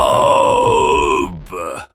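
A cartoon lion trapped in a hunter's net lets out a loud, drawn-out roar voiced by a person imitating the animal. The roar falls in pitch, breaks off, then returns in a short second burst.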